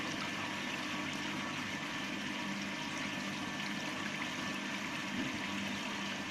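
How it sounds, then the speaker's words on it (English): A pump runs steadily as water flows through the approach channel of an ogee weir in a hydraulics lab, a constant, even rushing hiss with no pauses or talk. "Switch on the pump and allow the water to flow through the approach channel."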